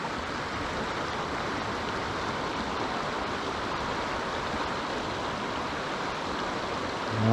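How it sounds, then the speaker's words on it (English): Creek just upstream of the Wilson River at Elk Creek Campground, a steady, close rush of flowing water with no talk, holding an even level throughout. "This is just upstream of the Wilson River, which is a beautiful river. But I really like this creek."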